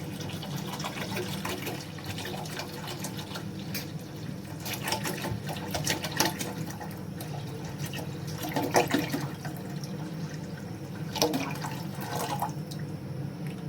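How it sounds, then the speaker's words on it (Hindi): About two liters of water pour steadily into a pot for cardamom sharbat in a continuous splashing stream, with a low mechanical hum running underneath throughout. "और इसमें अभी तकरीबन 2 लीटर पानी डालेंगे।"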